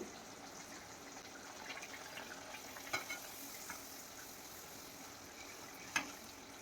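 Puris deep-fry in hot oil with a soft, continuous bubbling sizzle, fairly faint and close, broken by a couple of brief sharper splashes or clinks; no voices.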